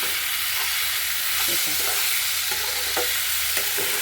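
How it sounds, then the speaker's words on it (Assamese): Raw half-ripe papaya stir-fried in a pan without spices, giving a steady bright sizzle with occasional scraping stirs of a spatula, close and continuous with no talking. "এই আমাৰ অমিতা ভাজি ৰেডি হৈ গ'ল"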